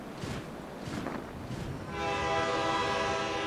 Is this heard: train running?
yes